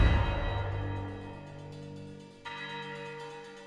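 Orchestral percussion of ducked timpani, metallic hits and a swelling sampled bell, opening with a heavy low hit that decays into sustained bell tones, then a second struck bell swell rising partway through, with no voices.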